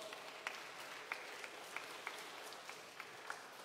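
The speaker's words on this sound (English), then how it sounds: "Another round of applause." Round of applause from a congregation at a student mass, a quiet, distant, even wash of clapping with occasional louder single claps breaking through.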